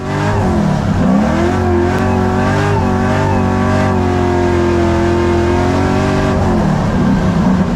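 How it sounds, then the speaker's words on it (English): A 150,000-mile Ford Focus RS mk2, driven hard around a soaking wet track, roars loud and close with a steady, sustained engine note that rises and dips slightly in pitch throughout, without pause. "Watching Luke pedal this around like an absolute maniac on a soaking track"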